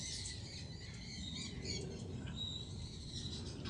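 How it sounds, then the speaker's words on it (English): Birds chirp and sing steadily in the open air during a solar eclipse, heard from a home deck: a dense, continuous chorus of tweets and calls at moderate distance, with faint insect-like trilling beneath and no talking. "I hear some birds singing and making noise."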